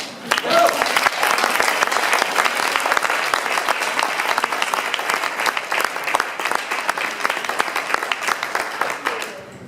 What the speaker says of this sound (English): I want to hear the strong applause